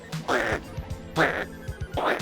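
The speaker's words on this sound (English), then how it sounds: "We had a chicken, now we got a duck." A duck quacks in three loud nasal bursts, each a short run of rapid quacks, close and clear in a garden setting.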